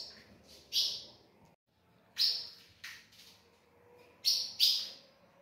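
Young blue grosbeak (azulão) chicks, about a month old, give a few bright, sharp chirps in short bursts with pauses between, close by and alone over a quiet background.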